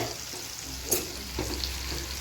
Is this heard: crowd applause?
no